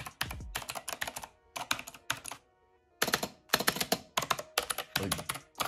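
Bursts of rapid, crisp clicking come from typing on a Razer BlackWidow V3 clicky gaming keyboard, loud and close, broken by short pauses.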